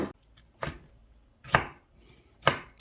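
A knife chops tomatoes and paprika (red bell pepper) on a cutting board for Spanish seafood paella, four separate sharp, close thuds spaced roughly a second apart with quiet between them.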